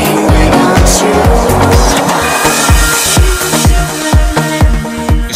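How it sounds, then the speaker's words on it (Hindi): Heavy evening traffic streams past a hotel on a busy Saigon street in Ho Chi Minh City on New Year's Eve, with dense rumbling engines, repeated whooshing passes and horn-like tones, loud and close throughout. "मेरे पीछे बहुत ही क्रेजी ट्रैफिक है इस टाइम पे"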